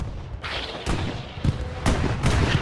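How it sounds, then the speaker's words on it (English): A Jumbo tank fires its cannon at a Panzer IV during a competitive Hell Let Loose match, with several heavy booming shots and thuds spaced across a short stretch amid battlefield rumble. "Jumbo fires against the Panzer IV"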